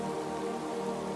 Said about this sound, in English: already the rain is carrying you